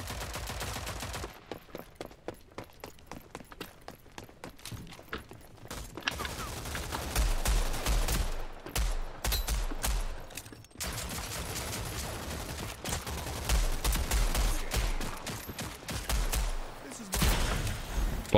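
Gunfire in the video game Rogue Company cracks in rapid bursts and scattered single shots, some distant and some close, forming an uneven fusillade that runs throughout.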